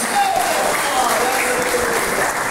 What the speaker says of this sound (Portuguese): os irmãos retribuem aí com uma forte salva de palmas